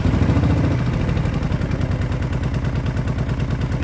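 A 2006 Kawasaki Vulcan 750 motorcycle engine runs close by without the choke and with the air boxes off, a loud, steady, rough idle with a rapid pulsing beat and unadjusted carbs.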